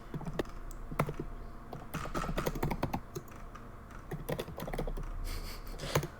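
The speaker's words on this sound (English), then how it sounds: "Angry typing." Fast, uneven typing on a computer keyboard, a dense run of close, sharp key clicks with short pauses and bursts of heavier strokes.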